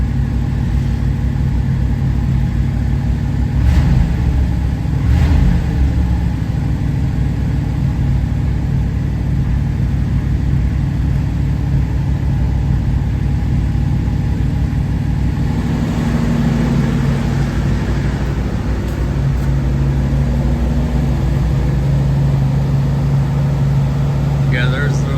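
A Cadillac engine with no exhaust system runs after a cold start, a loud raw steady rumble throughout with a brief rev near the start, while people talk over it.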